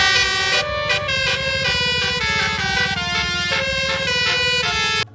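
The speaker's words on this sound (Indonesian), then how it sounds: "Om Alfayet yang terkenal banget sama klakson teloletnya" A loud, melodic multi-tone telolet horn on a modified car plays a rapid musical sequence of shifting notes over an engine rumble, ending abruptly.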